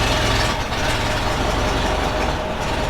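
A 1917 Ford Model T engine running steadily with a dense, rough mechanical drone and low rumble, close by and loud, holding an even idle throughout.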